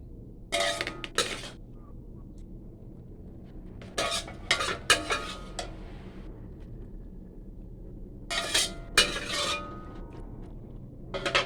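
Stir-fried luffa with egg is scooped from a pan into a bowl, with a metal utensil scraping and clinking against cookware in several short, close bursts separated by quiet pauses, and no one talking.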